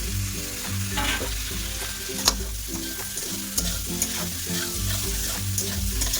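Boiled potatoes fry with spices and tomatoes in a hot pan, a continuous close sizzle broken by repeated scraping and tapping strokes of a spatula stirring the mixture.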